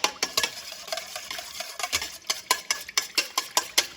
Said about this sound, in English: And then what I'm going to do is just mix it in.